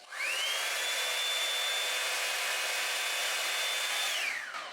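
A Revlon Air Straight hair dryer runs on thick curly hair, a loud steady rushing whoosh with a high motor whine that climbs as it starts up and sinks away as it switches off.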